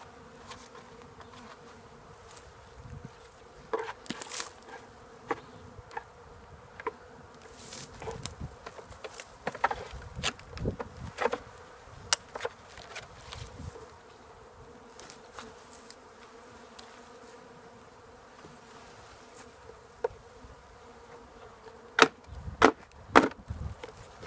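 Honey bees buzz around an opened hive during a late winter inspection, a faint steady drone under sharp wooden clicks and knocks from the frames and boxes.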